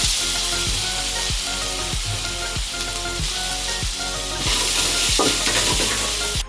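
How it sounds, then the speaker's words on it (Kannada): Chopped onions fry in ginger garlic paste with a loud, hissing sizzle that persists throughout, while a steady low hum and regular thumps of stirring repeat about every half second, and the hiss brightens toward the end. "ಈರುಳ್ಳಿ ಕರೆಕ್ಟಾಗಿ ಫ್ರೈ ಆಗಿದೆ."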